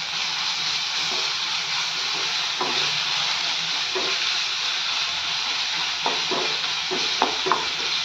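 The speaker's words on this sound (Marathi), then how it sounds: "आलं लसणाच्या पेस्टचा कच्चापणा जाईपर्यंत ही पेस्ट कांद्यात छान परतून घ्यायची" Ginger-garlic paste sautéing with onions in hot oil for veg dalcha makes a steady, dense sizzle and hiss, with occasional soft scrapes and taps of a spoon stirring the pan, and no talking.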